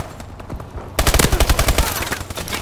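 A loud, close burst of rapid automatic gunfire in Call of Duty: Advanced Warfare, beginning suddenly after a second of game ambience and continuing as a fast, steady rattle.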